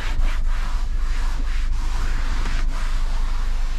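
A coating product is rubbed by hand into a car seat in a small Abarth, a steady, close, loud scuffing with faint rhythmic strokes and no voices.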